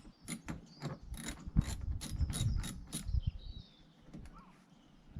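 Ratchet clicking while undoing bolts on an Audi A5 front bumper, close, with rapid bursts of sharp ticks followed by quieter handling sounds.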